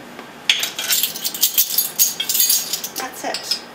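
Spring roll filling being tossed and mixed with olive oil, sesame oil and salt in a bowl, close irregular clinks and scraping rattles of a utensil against the dish, repeated in quick bursts.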